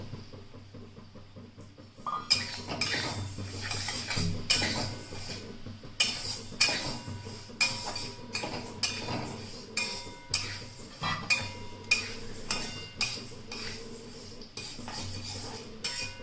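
Lentils being stir-fried in a pan to a medium roast for navratna dal, with a spoon or spatula scraping and clinking against the metal in an irregular rhythm that continues steadily for the whole stretch, close and clear.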